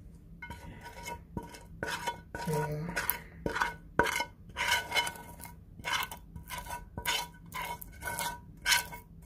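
Bakhoor, an Arabian incense mixture, is scraped out of a pot before it sets: repeated close metallic scrapes and clatters come in uneven bursts, with a brief voice in between.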